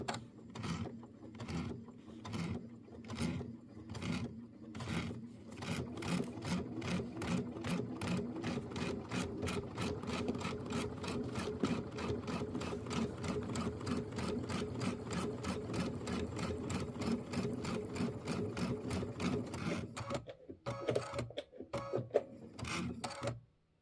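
A sewing machine stitches a Kimberbell holiday home tote in a fast, steady mechanical run lasting about twenty seconds. It slows, stops, and a few handling clicks follow.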